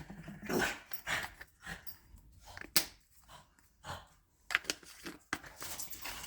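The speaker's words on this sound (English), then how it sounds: "Sorry if you can hear the dogs in the background being dogs." Dogs growl and grumble in the background, with occasional short barks and panting, fairly faint and ongoing.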